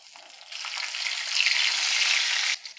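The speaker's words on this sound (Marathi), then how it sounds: "आता मिरचीसुद्धा छान परतली गेलेली आहे." Garlic and green chillies frying in hot oil in a pan, a close, bright sizzle that swells and holds steady before cutting off abruptly near the end, with no voices.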